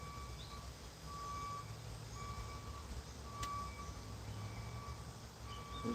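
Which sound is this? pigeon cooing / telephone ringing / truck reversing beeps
truck reversing beeps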